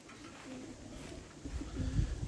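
Soft, low pigeon coos repeat in a steady murmur in an outdoor aviary, growing a little louder toward the end, with no talking.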